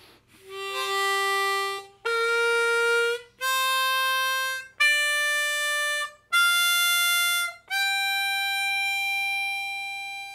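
A harmonica played in second position climbs a one-octave blues scale, six separate sustained notes rising in pitch one after another, close and clear with no talking.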